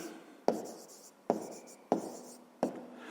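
Pen or pencil strokes scratch on paper in four distinct bursts, each starting with a sharp attack and trailing off, close and clear with no talk.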